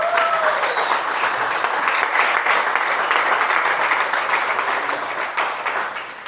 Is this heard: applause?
yes